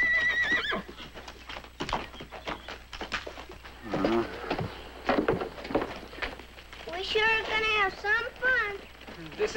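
An angry wild horse penned up in a corral gives loud, shrill neighs and whinnies over the clatter of hooves, with voices mixed in nearby.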